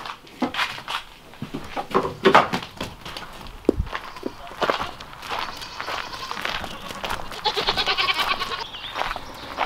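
Goats bleat repeatedly on their way out to pasture, with hooves and footsteps shuffling nearby and several short, close calls overlapping.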